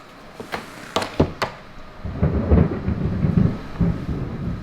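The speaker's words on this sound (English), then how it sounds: "That's more thunder." Thunder rolls low and broad during a storm by a carport, a rumbling swell building after several sharp knocks and thuds, moderately loud with a steady hiss of rain beneath.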